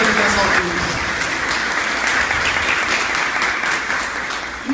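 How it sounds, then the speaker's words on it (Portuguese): A church congregation at a Catholic Holy Spirit seminar applauds in a dense, steady burst of clapping that fills the room for several seconds. "Aplaudam a Deus, aplaudam a Deus"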